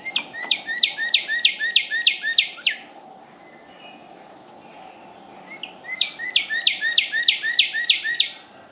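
Birds call outside a forest nature center on Crowley's Ridge in two bursts of rapid, bright repeated chirps, close and clear, separated by a few quiet seconds of soft background.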